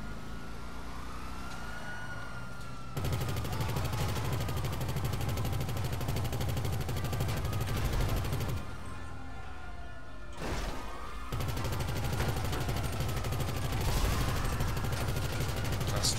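The rear mortar of a Weaponized Tampa in GTA V fires in long, rapid, repeating bursts of thuds with short pauses between volleys, under a rising and falling whine.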